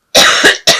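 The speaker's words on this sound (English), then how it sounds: "I'm so sorry about this cough." Two sharp, loud coughs from a lingering cough in quick succession, close up, the first drawn out and the second brief and abrupt.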